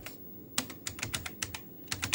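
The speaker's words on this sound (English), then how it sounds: "I quite like the feel of this keyboard." Brisk typing on the keyboard of an Amstrad CPC6128 computer, a quick run of crisp, close key clicks with no talking.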